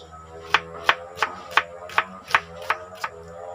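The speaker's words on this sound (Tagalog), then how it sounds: "Hiwa na po tayo ng sibuyas." An onion being chopped with a knife on a chopping board, eight crisp, evenly spaced cuts about a third of a second apart, close and clear, with a low hum underneath.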